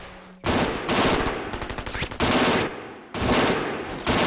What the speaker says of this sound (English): This is a burst fire weapon, by the way, this weapon that I have.